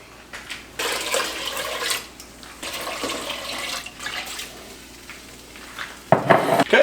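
Three quarts of water pour into a pot on a stovetop, giving bursts of rushing, splashing liquid with short pauses between pours and a sharper clatter near the end, close and fairly loud with no speech.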